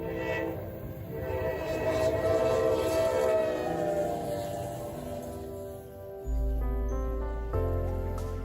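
A long Norfolk Southern freight train rumbles past at Kings Mountain with a loud, sustained horn chord, heavy low rolling noise throughout, then a second deeper horn blast near the end.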